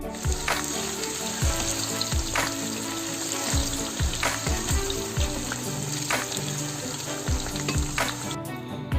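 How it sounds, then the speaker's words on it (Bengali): Small cut potatoes fry in leftover fish oil in a pan for a tangra fish curry, giving a continuous loud sizzle with occasional clinks and scraping stirs, and no voices. "আলুটাকে ওই মাছের তেলের মধ্যেই ভালোভাবে লাল লাল করে ভেজে নিতে হবে"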